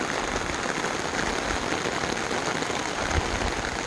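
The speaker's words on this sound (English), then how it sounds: "We're just getting this amazing rain." A summer rain falls outdoors under an overcast, cloudy sky as a constant, close hiss of drops on surfaces, steady and unbroken, with nobody speaking.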